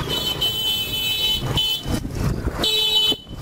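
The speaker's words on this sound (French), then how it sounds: "Dans un endroit rempli de motos, dans un endroit qui klaxonne" Several horns honk in short repeated blasts along a street crowded with motorbikes, over a steady rumble of engines and traffic.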